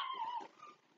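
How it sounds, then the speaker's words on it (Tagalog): A dog gives a short bark that trails into a whimper, close and fairly loud, then fades into softer whining. "ang ingay ng aso. Hindi ako makapag-concentrate."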